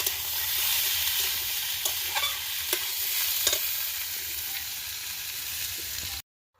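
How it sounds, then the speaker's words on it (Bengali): Peas ghugni with tomato fries in goat fat in a pan, giving a steady close sizzle with a few sharp spoon-scrape clicks, then cutting off abruptly near the end. "টমেটোটা দিয়ে আর একটু ভেজে নেবো"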